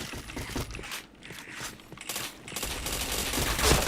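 Gunfire in a first-person shooter game, bursts of rapid automatic shots mixed with crunchy impacts and footsteps, fairly close and uneven, rising toward a louder burst at the end.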